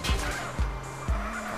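A video game car in GTA DYOM drives on blown tires, giving repeated rhythmic thumps and scraping skids over a constant engine drone, with about four heavy bumps in quick succession.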